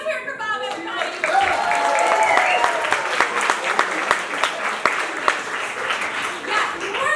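An audience at a Level 1 showcase show bursts into loud, sustained applause, a dense patter of many hands clapping that swells and carries on for several seconds.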